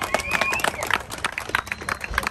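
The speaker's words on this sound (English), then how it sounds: "let's give everybody a round of applause" Crowd clapping and cheering at an outdoor San Diego bike toy drive, a loud, dense burst of applause mixed with shouts and babbling voices close by.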